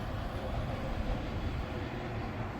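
Freight train 36N rolls past on a rail line in Ohio, making a steady, broad rumble with a low roar that stays even throughout and is heard fairly faint without speech.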